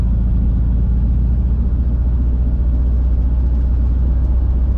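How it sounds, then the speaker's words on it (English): A dark red 1964 Cadillac DeVille convertible with an automatic transmission, idling with its top up. It gives a deep, loud, steady engine rumble that is heavy in the low end and throbs evenly from start to finish. "Nice rumble from this Cadillac."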